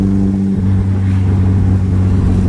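A 1979 MG Midget Roadster engine runs at a steady loud idle, a deep continuous rumble with a firm low hum, heard up close without any voices.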